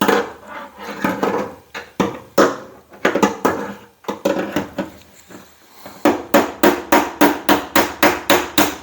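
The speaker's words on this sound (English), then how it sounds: "I still have to do a little more hammering here." Sharp metal-on-metal hammer strikes on the trunk lid of a 1968-72 Pontiac GTO ring out in uneven bursts, then settle into a fast, steady series of evenly spaced blows, loud and close.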